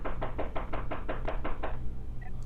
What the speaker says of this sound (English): I'm knocking on the door.